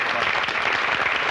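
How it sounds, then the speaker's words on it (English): A studio audience claps in a steady, even burst of applause that fills the whole moment at moderate loudness. "Folks, can we give Barbara a round of applause?"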